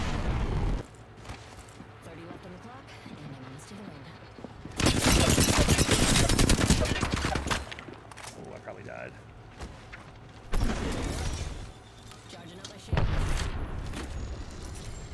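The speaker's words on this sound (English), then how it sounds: "I hear shots. Let's land on them." Gunfire in the Apex Legends battle royale video game, bursts of rapid shots in three loud stretches with quieter background game sound between them.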